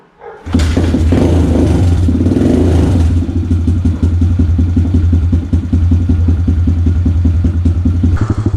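A dirt bike engine revs hard, then settles into a steady, loud, close drone with rapid rhythmic pulsing as it rides across a dirt field, with no talking.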